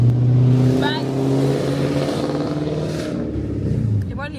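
A car engine revs and drones loudly nearby, with rising and falling pitch, while a person talks over it.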